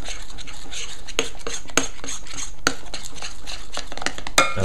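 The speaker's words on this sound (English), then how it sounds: "you just want to keep stirring it until all of the lumps go" A spoon scrapes and stirs a thick, lumpy breakfast mixture of cookie-dough texture in a bowl, with repeated clinks against the sides in an uneven rhythm, close and fairly loud.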